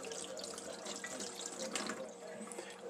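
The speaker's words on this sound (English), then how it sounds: "Just turn back and forth the spigot a bunch of times," Water runs steadily from the spigot of a beer-making jug during sanitizing, a continuous close splashing flow with faint gurgles and drips, quiet and uninterrupted.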